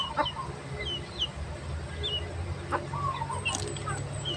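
Several chickens cluck and murmur nearby in short irregular bursts, with a few higher squawks over a low background hum.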